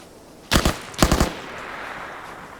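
Gunfire in a PvP video game match, with two quick bursts of automatic shots, each a cluster of sharp, loud cracks about half a second apart, and a quieter background between them.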